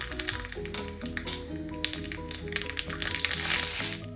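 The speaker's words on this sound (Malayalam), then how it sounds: "ഇതിലേക്ക് നമുക്ക് 1/2 ടീസ്പൂൺ കടുക് ചേർക്കാം" Half a teaspoon of mustard seeds crackles and pops in hot coconut oil as a tempering for a tomato dosa side dish, with dense, close, irregular snaps and clicks over a sizzling hiss.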